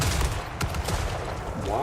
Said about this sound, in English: the pistoliers are actually dual-wielding flintlock pistols